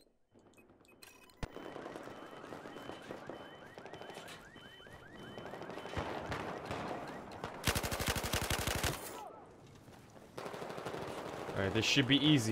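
Gunfire from the Battlefield 4 video game on PS4 multiplayer, with repeated shots and a dense, loud automatic burst near the middle, while someone talks over the game sounds.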